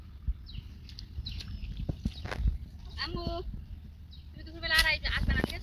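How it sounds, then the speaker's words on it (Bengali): Goats bleating outdoors by a wetland, with a few short, wavering bleats rising over steady background noise and nearby footsteps, the loudest calls near the end. "দেখেন কত ছাগল বানিয়ে রাখছে মানুষ,"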